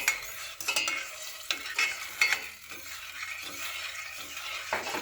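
Boiled beans and their cooking water poured into a pot: a wet, splashing pour with clattering and scraping of utensils against metal, fairly soft and uneven.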